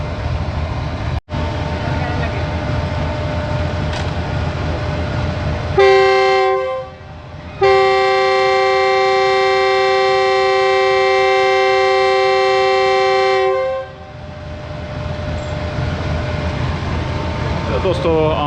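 Horn of the Shalimar Express departing Sahiwal railway station, sounding loud and close in two blasts, a short toot followed by a long sustained tone of about six seconds, over steady train and station rumble.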